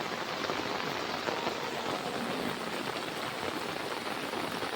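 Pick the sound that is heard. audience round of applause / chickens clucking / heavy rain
heavy rain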